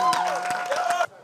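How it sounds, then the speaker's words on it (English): A game-show studio audience applauding, a steady close wash of clapping with a synth tone running underneath, cutting off abruptly near the end. "round of applause for the Oduwades"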